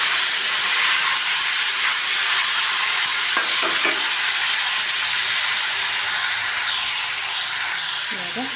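Green chillies, curry leaves and tomato fry in a hot pan for tomato curry, giving a loud, steady sizzle and hiss throughout with brief stirring scrapes partway through.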